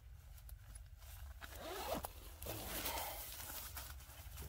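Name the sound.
zipper of mummy sleeping bag being opened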